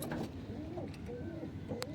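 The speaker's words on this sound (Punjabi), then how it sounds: "ਪਹੁੰਚ ਗਏ ਆਪਾਂ ਉੱਪਰ ਕਬੂਤਰਾਂ ਕੋਲੇ" Pigeons coo softly inside their coop, low throaty warbling calls overlapping nearby, with a brief sharper tap near the end.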